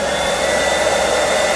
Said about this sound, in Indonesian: Kita nyalain dulu nih hair dryernya.